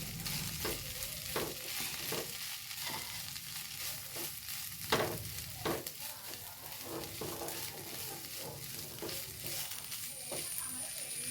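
Chicken and drumstick stir-fry with crushed chilli being stirred in a pan, a steady frying sizzle broken by repeated scraping strokes of a spoon, with a voice talking over it at times.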